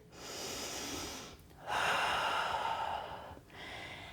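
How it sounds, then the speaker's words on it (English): Heavy breathing during a Pilates mat and dumbbell workout: three long, loud, close breaths, airy and rushing like sighs or exhalations, separated by short pauses. "Breathe."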